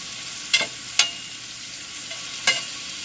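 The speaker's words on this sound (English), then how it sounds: "you want to get your spatula and start, just moving it around" Food frying on a medium fire and pushed around with a spatula: a steady soft sizzle broken by three sharp scraping strokes spaced apart.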